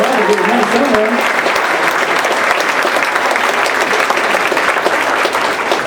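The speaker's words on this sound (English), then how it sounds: "If you want to give him a round of applause again." A concert audience at an orchestra performance applauds steadily and loudly throughout, a dense wash of clapping with a brief voice near the start.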